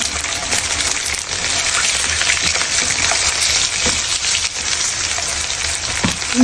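Spice paste of onion, chilli and garlic frying in a pan for egg curry gives a continuous dense sizzle, close and loud, with occasional faint clinks and scrapes of stirring.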